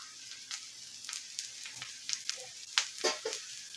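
Oil or ghee sizzles under a moong dal chilla frying on a hot pan, a soft steady crackle with a few sharper pops toward the end, fairly close and with no voices.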